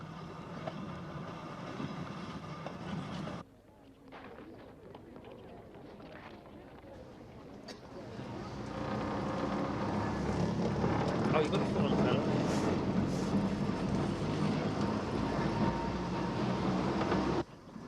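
Volk's Electric Railway train on 110-volt DC running along the Brighton seafront toward Black Rock, a steady rumbling roll that drops briefly then swells louder and holds, with a voice talking over it.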